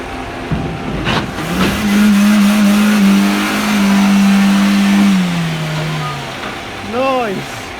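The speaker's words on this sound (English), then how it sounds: "Can you see the speed that car went up there?" A car accelerates hard up a road, its engine note rising into a loud sustained drone that sweeps past and fades, with voices talking briefly before and after.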